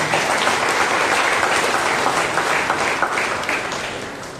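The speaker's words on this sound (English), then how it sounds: "A mighty clap to the Lord, please" A church congregation at a Monday prayer meeting breaks into sustained, dense applause that stays loud and even for several seconds before starting to taper off near the end.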